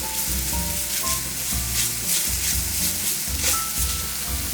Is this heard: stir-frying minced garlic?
yes